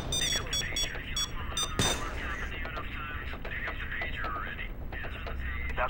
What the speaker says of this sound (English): The alarm, guys. It's on now.